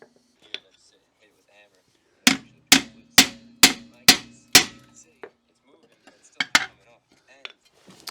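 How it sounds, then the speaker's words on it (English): A ball peen hammer strikes a stuck brake part on a car with six sharp, evenly spaced metallic blows. A few scattered lighter taps and faint voices in the quiet follow. "Gonna start small with the ball peen."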